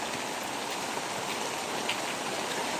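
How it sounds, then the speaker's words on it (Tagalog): Heavy rain pours steadily and close by on a rainy day, a dense, unbroken hiss of falling water with no letup and no voices. "Lakas pa rin ang ulan."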